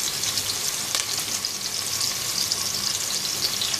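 Ingredients for a Pakistani split green gram khichdi fry in hot oil until light golden, giving a steady, close sizzle with faint stirring scrapes and no voices.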